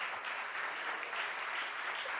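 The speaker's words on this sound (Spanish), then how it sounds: "Podemos dar un aplauso al Señor por eso." A church congregation gives a warm round of applause during a Spanish-language service, a dense, even wash of many hands clapping that fills the room without pause.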